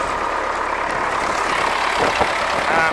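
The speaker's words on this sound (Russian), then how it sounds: "Вот такой у нас трактор." An MTZ-80 tractor fitted with a disc harrow idles nearby at a vegetable garden, a steady, loud, low diesel rumble that holds continuously throughout.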